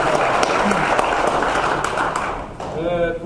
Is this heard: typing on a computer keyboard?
no